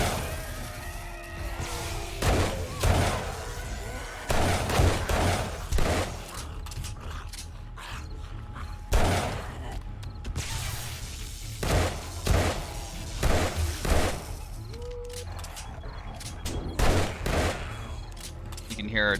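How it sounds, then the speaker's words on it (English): Automated base-defense turrets in the video game 7 Days to Die firing in repeated rapid bursts, loud and close, with gaps between volleys and mechanical clatter, while a voice talks intermittently over them. "You can hear our turrets over there"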